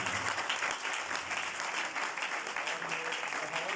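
Loud, sustained applause from a church congregation welcoming the word of God, dense and steady throughout with a faint murmur of voices beneath.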